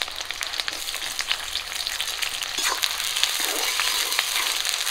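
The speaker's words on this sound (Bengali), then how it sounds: "পেঁয়াজটাকে একটু লাল করে ভেজে নেব।" Chopped onion and three green chillies frying in hot mustard oil in a wok, a bright, crackling sizzle with scattered pops that grows slightly louder toward the end.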